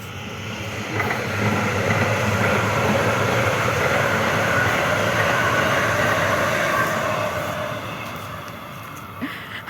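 A train passes along a railway line beside an empty road in Canada, a loud, continuous rumble and roar that lasts the whole stretch and eases slightly toward the end.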